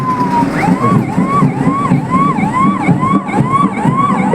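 A fire engine siren wails in a steady repeating rise-and-fall pattern, several cycles close together, loud and continuous over the low rumble of the truck, with no talking.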